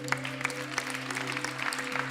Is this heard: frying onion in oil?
no